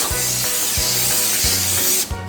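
A steady, loud hiss of non-stick cooking spray from an aerosol can runs continuously, cutting off near the end, with a low rhythmic thumping beneath it.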